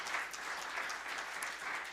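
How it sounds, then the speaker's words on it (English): Steady applause from an audience at the World Food Gift Challenge presentations in Crete, continuous and fairly even for the full stretch with no voices over it. "Applause, please, for all of you, all the participators."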